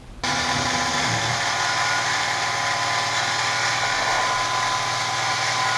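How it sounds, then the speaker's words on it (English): CNC machine engraving and chamfering a custom aluminum-style engine emblem for a V6 2GR-FE in an SW20 MR2, producing a steady, loud high-pitched spindle whine with a constant motor drone throughout, alone without talk. "this step we're going to go ahead and do the engraving like the first one, but I'm going to add that chamfer"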